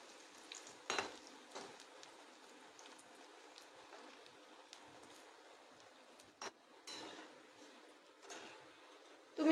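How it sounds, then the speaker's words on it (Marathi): Sabudana fries deep frying in hot oil until reddish, a steady soft bubbling hiss with a few louder pops and knocks, fairly quiet and alone. "याला छान असा लाल रंग येईपर्यंत आपल्याला तळून घ्यायचं आहे"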